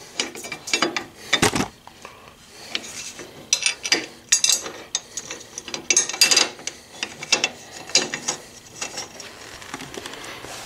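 A ratchet drives supplied hex head bolts into lower crash bars on a Honda Africa Twin CRF1000L, with close, repeated bursts of clicking and rattling at an uneven rhythm.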